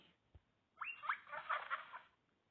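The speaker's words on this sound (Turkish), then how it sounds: "Kobay." After a single soft tap, a guinea pig lets out a run of quick, chattering squeaks, close by and quiet, with nothing else around.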